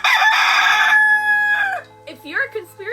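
A rooster crows loudly and close by in one long, strained call, then a person starts talking while faint background hum continues.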